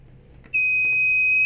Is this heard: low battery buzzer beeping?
yes